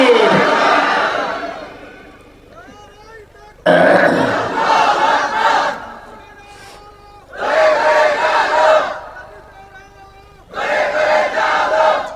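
A large crowd at an Islamic religious gathering in Cumilla roars the takbir chant in unison, with four loud, surging shouted bursts separated by quieter pauses.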